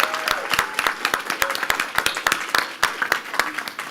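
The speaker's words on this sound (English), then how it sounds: "Ask for an applause, but can I ask for a better one?" Audience applause at a live technology showcase event, a loose patter of individual hand claps with distinct sharp slaps, moderately close and sparse rather than a dense roar.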